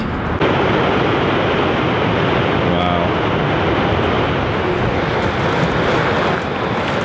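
A waterfall in Iceland roars as a dense, steady rush of falling water and blowing mist with wind buffeting, loud and close throughout.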